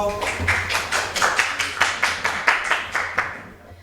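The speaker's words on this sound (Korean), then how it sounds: "박수 쳐주세요." An audience claps in a steady, brisk rhythm of distinct, fairly close handclaps, like a small group applauding together, tapering off at the end.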